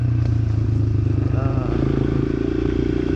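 A Kawasaki KLX140G dirt bike runs on trails with a loud, close engine drone and some clattering over the ground, continuous across the short stretch.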